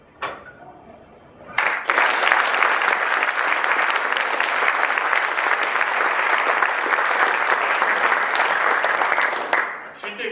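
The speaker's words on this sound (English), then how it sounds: "That applause was for her." Loud, sustained applause from a debate audience, rising abruptly after a quiet opening and continuing as dense, even clapping for about eight seconds before tapering off.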